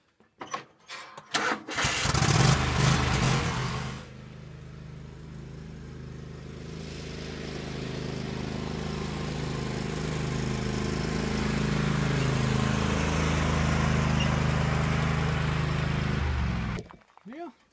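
A John Deere L130 lawn tractor engine cranks in a few short bursts, catches, and settles into a steady, loud idle that runs on close by before cutting off at the end.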